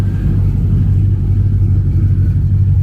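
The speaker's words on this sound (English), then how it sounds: "Got another Nova rolling in." A classic Chevrolet Nova rolls in at an Arizona car show, its beefy engine giving a loud, steady low rumble close by with no voices.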